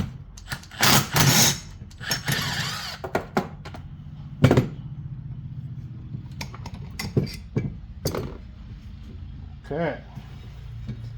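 A small bolt is worked loose to free a strap on fishing gear: scattered metallic taps, clinks and knocks come in irregular bursts close by, with brief pauses between them.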